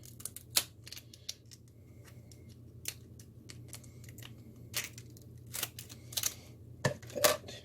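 Kitchen shears snip down the backs of lobster shells in a series of sharp, close crunching cuts scattered irregularly over a low steady background hum, with no talking.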